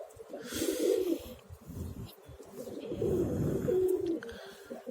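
Pigeons coo in low, throaty bursts at a rooftop loft, a steady overlapping murmur of several birds close by with soft rustling and breathy sounds.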